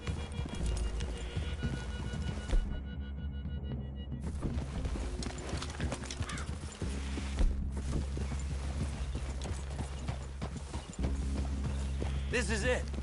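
Horses' hooves clip-clop steadily in a Red Dead Redemption II outdoor scene, close and continuous, with voices and game ambience over them and a brief quieter break partway through.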